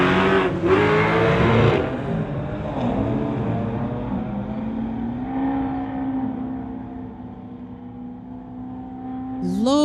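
Drag race launch between a 2008 BMW 335i and a Nova: loud engines roar and rev up, shifting pitch as the cars pull away and fade, ending with a brief squeal-like burst.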